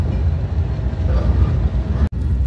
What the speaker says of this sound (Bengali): এইমাত্র পদ্মা রেল স্টেশন ছেড়ে ভাঙার পথে আমাদের পাথরবাহী ট্রেন